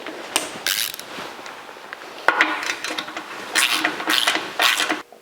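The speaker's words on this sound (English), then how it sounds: "And now we can tighten these down." Metal bolts on Old Man Emu leaf springs being tightened on a 1982 Jeep CJ7, heard as several separate bursts of close, rasping mechanical clicking with brief gaps between them.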